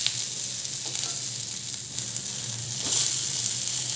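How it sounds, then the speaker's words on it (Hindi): Pepper garlic chicken frying in a pan over a medium flame, giving a steady, even sizzle that holds throughout and swells slightly toward the end, with no voices. "हम इसे मीडियम फ्लेम पे ऐसे फ्राई होने के लिए रख देंगे।"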